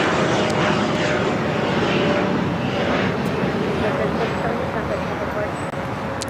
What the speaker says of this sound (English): Our next arrival here on the south side is Air France flight 22, coming in from Paris.